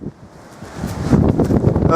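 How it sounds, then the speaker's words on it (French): Strong wind buffeting the microphone at a lookout over a lake, a rough low roar that starts moderate and grows louder in gusts, close and harsh, with no clear speech. "Il y a énormément de vent, je suis envolé."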